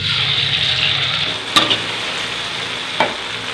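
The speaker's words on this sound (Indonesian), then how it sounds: "langsung aja kita goreng dulu bumbu nasi kuningnya" Spice paste for Indonesian nasi kuning (yellow rice) sizzles steadily in hot oil in a pan, with a couple of sharp clinks of a utensil stirring it, close and loud.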